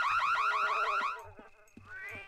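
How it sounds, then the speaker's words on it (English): A burglar alarm in The Sims 1 video game wails in a loud, rapid, rising electronic whoop that stops abruptly, then a quieter steady tone comes in with soft background game sounds. "The burglar alarm."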